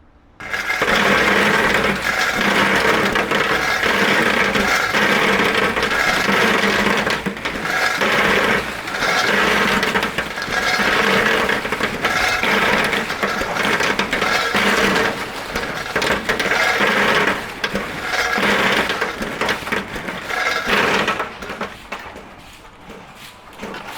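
A two-ton helical walnut drying machine unloads a shelf with a loud, continuous mechanical rumble and rattling of nuts tumbling along, steady for about twenty seconds before tapering off.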